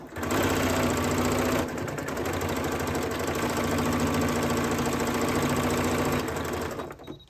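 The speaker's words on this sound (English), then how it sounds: "Now I'm just going to run a parallel stitch right down the center, just like I did before." A sewing machine runs a continuous stitch through layered fabric scrap coasters, a close, steady mechanical whir that slows briefly and then keeps going before stopping at the end.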